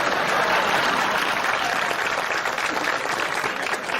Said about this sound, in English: how about a big round of applause for Barry Martin and his hole-in-one?